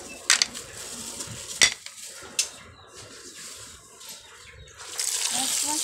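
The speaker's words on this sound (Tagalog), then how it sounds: "hugasin naman natin itong ating bagungon" Bagongon snails being washed in water in a kitchen: shells clink and rattle against a container, water swishes and sloshes, and a voice talks in the background before a steadier stream of running water starts near the end.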